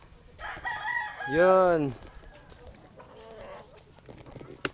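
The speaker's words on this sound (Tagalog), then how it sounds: "Oh, daming manok ni Kalabas oh." A rooster gives one loud, clear crow nearby on a family outing among many chickens, with soft clucking and a brief spoken word around it.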